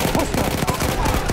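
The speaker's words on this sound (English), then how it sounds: "Machine gun, hostile!" Machine-gun fire in the Battlefield game during the Amiens assault, a steady rattle of rapid shots over dense battlefield noise, loud and close.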